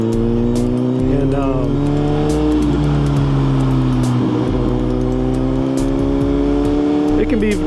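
A Suzuki GSX-R1000 motorcycle runs loud and steady at close range, its engine note climbing and dropping through gear changes, with wind buffeting and a voice talking over it.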